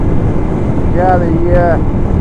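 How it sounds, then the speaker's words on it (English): Strong wind buffets the microphone steadily throughout a ride, with a brief whistling tone rising over the roar partway through. "wind is just frickin' brutal today."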